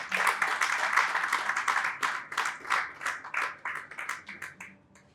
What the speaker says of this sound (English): So please, can we give him a round of applause?